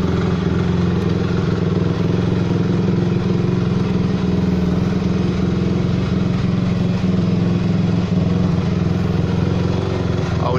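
A 2005 Honda CRF 250 R dirt bike sits idling close by, its engine holding a steady, even rumble with a slight clatter throughout, running alone without any talk over it.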